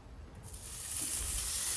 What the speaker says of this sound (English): first we're gonna go ahead and get that bacon down